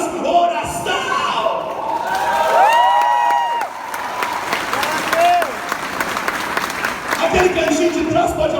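A congregation applauds during a sermon, loud continuous clapping and cheering with voices and shouts rising over the crowd.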